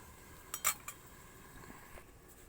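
A lid goes onto a cooking pot of potato, brinjal and greens with a little water added, making a few quick metallic clinks close by, then quiet.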